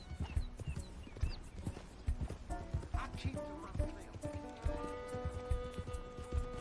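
A horse's hooves clip-clop steadily in a video game, close and rhythmic, with a whinny and a low ambient tone rising toward the end.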